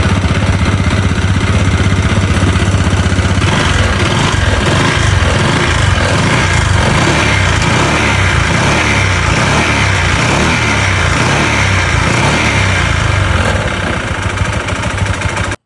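A Honda Starlo motorcycle engine with a lost piston and failing oil pump runs loud and steady, its rough knocking rattle continuous and close throughout.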